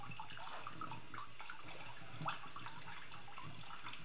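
Water runs steadily into a sausage casing while salchichón is made at home, a continuous close rushing flow with one brief louder splash partway through.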